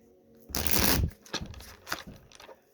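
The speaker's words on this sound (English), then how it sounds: "One more shuffle." Tarot cards being shuffled by hand, one long riffling burst followed by a few shorter, softer flicks and taps, close and clear with no talking.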